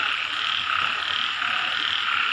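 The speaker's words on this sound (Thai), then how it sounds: "เสียงกบเสียงเกียด" Frogs croak during rain in a dense, continuous chorus of many overlapping calls, loud and close, with no talking over them.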